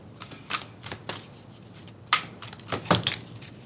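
Psychic Tarot Oracle cards being shuffled by hand, a series of quick papery riffles and soft slaps in irregular bursts, close and fairly quiet, with no talking.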